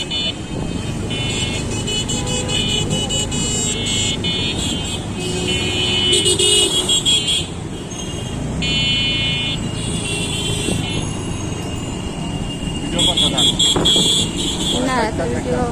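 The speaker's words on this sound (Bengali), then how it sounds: "বাইকে করে বাইরে যাচ্ছি" A motorbike ride through busy night traffic at the TSC area in Dhaka, with a constant engine and road rumble, repeated horn toots from nearby vehicles, and people talking over the din.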